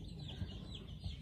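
Chickens cluck softly in a farmyard, a few short low clucks over a steady background hum, fairly faint and with no voices.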